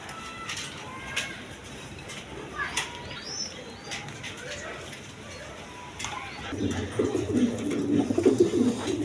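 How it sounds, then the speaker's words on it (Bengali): Lahori pigeons coo softly among a busy bird-filled background at a pigeon market, with flapping wings and a louder, denser stretch of sound toward the end. "এখানে এক পেয়ার লাহরি কবুতর আছে"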